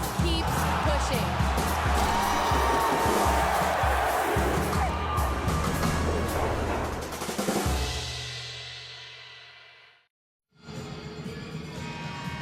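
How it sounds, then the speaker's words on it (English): A sold-out crowd inside Bramlage Coliseum roars and cheers through a Kansas State versus Kansas basketball game, with a dense wash of shouting and whoops under commentator talk. The noise swells, then fades to a brief silence before resuming. "A sold-out crowd in Bramlage tonight enjoying this one."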